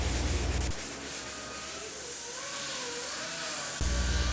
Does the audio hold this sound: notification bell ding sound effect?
no